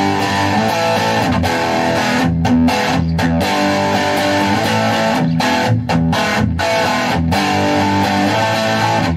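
Electric guitar played through a VOX Pathfinder10 amp using its built-in overdrive distortion, a steady run of driven chords and notes sustaining throughout with brief gaps between phrases, loud and close.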